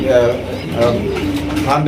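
Pigeons on a breeding farm coo in low, throaty rolling phrases, several overlapping birds close by, with a murmur of voices mixed in underneath.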